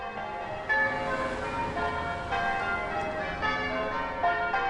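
Several bells ring in overlapping, resonant tones, like church bells pealing, sustained and steady at moderate volume with no voices.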